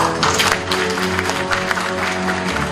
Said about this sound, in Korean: 축하 영상을 보내주신 분들께 감사의 박수를 부탁드립니다